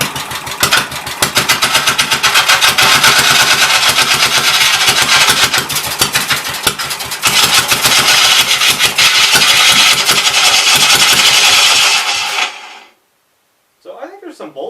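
A Briggs motor runs hard and loud with a rapid mechanical clatter from loose bolts rattling in its shroud, then cuts out abruptly near the end before a brief restart sputter.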